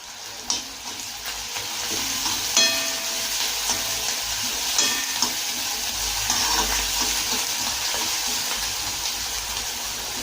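Chopped onion, red chili and garlic sauté in hot oil in a pan for dry mustard greens, a steady sizzle with scraping stir strokes and small clinks throughout, close and fairly loud with no talk.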